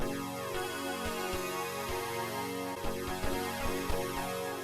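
Bright synthesizer chords from a Sonicware Liven 8bit Warps are struck in a steady rhythmic pattern, densely layered with pulsing repeated hits and no voices.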